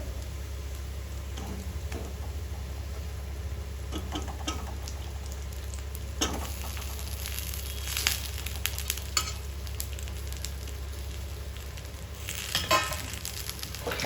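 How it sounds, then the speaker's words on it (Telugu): Stuffed brinjals coated in masala fry in a pan for a curry, a low steady sizzle with occasional taps and scrapes of stirring over a constant hum, no one speaking. "మనం దీంట్లోనే వంకాయలు కూడా వేసేసుకుందాము ఇది కూడా మనకు ఫ్రై అవ్వాలి కదా"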